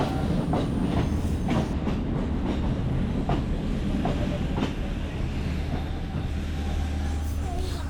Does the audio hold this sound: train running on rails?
yes